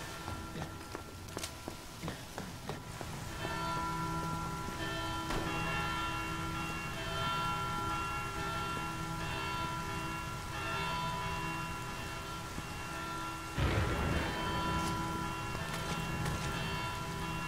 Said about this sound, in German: Du musst die Glocke läuten.